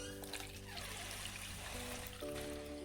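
Warm water trickles and pours steadily into a bowl for pizza dough, quiet and close. The flow is continuous, with a faint tonal ring rising as the bowl fills, and no one speaks.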